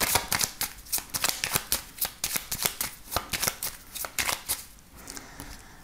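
A 32-card deck shuffled for a card reading gives repeated crisp riffling flutters in a steady rhythm, close and fairly soft, with no talk over it.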